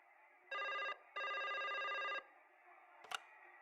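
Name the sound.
cell phone call ringing in Broken Sword 5 video game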